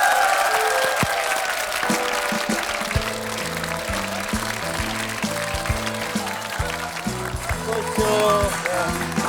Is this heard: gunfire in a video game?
no